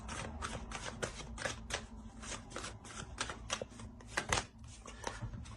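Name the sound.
tarot cards being shuffled and drawn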